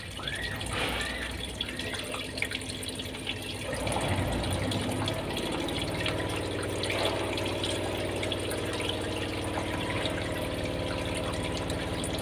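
Water drains from a clogged washing machine with a steady splashing, gurgling flow, close up and continuous, turning lower and fuller partway through, with no talk.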